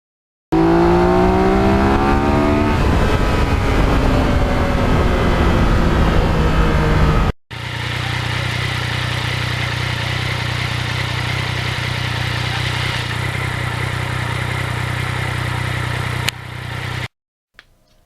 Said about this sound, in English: Nice, quiet motorcycle, not disrupting anybody.